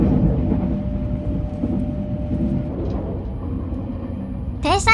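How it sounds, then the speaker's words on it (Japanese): A JR 201 series electric train passes on the Osaka Higashi Line, heard from aboard the limited express Mahoroba. A steady low rail rumble rolls on throughout, and a brief rising tone sounds at the end. "今やその数を減らし貴重な存在になった201系電車とすれ違いました。"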